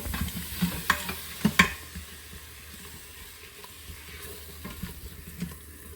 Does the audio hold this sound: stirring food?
yes